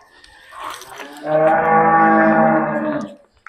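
A heavy pregnant water buffalo at a Punjab farm lets out one long, loud, low moo lasting nearly two seconds, preceded by a softer grunt, close to the microphone with no talk.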